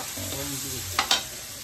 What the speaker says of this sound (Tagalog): Halo-haloin lang natin mga guys